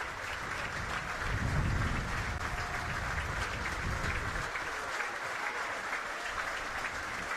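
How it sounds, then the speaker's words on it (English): Rugby league supporters from both sides at a Wakefield Trinity home match applaud together in a large stadium crowd, a steady sustained wash of clapping that swells briefly near the start and carries on throughout. "Brilliant to see supporters from both sides applauding here"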